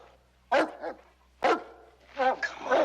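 A dog in a Western TV series barks sharply in separate bursts, two single barks followed by a quicker cluster, near and loud against a quiet background.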